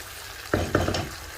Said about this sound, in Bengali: মশলা কষে একটু ভাজা ভাজা হওয়া পর্যন্ত অপেক্ষা করব।